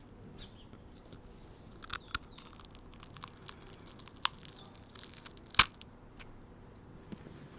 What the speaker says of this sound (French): Alors, ça va bien croustiller